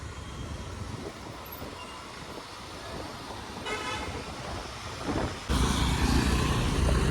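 Traffic rumbles along a lakeside road in Kerala, a horn toots briefly midway, then a louder vehicle surges close by.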